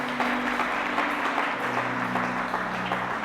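A church congregation applauds with dense, steady clapping that continues throughout at a consistent level, joined by faint voices.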